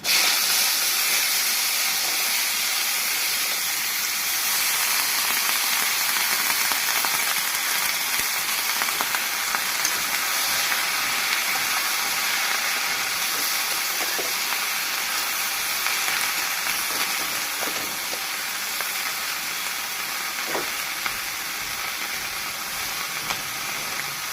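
Greens hit a hot pan with black cumin tempering in a prawn and taro dish, giving a steady broad hiss and sizzle that holds for the whole stretch with faint crackles.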